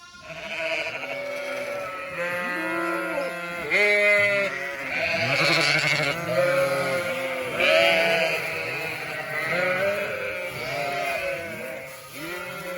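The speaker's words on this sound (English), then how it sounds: "we have a total of 40 ewes in here with their lambs" Forty ewes and their lambs in an indoor family pen during March lambing bleat loudly and continuously, many overlapping calls near and far, with no talking.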